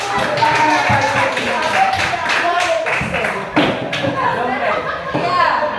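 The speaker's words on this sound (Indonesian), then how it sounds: "Kasih tepuk tangan dulu Bapak Ibu." People at a teachers' training session clap their hands, a scattered irregular patter of claps with individual slaps audible, mixed with chatter and voices talking over it.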